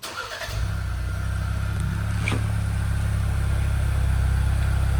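A 2.3-liter Ford Bronco with its stock factory exhaust starts up and settles into a steady, deep, droning idle, heard close and alone.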